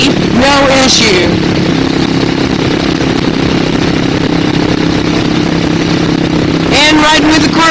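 A Suzuki S40 Boulevard, a carbureted motorcycle, cruises at around 60 mph with steady engine drone and wind rush throughout, loud and close, while a rider talks over it at the start and end.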